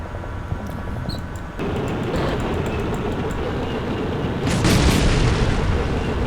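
A TOW missile launches in a Black Sea combat wargame with a sudden heavy boom and a sustained roaring rush, swelling louder toward the end, with no talk over it.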